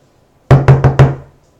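Four quick, solid knocks on a door land in an even rhythm, close and loud with a short resonant ring after each, alone in near silence.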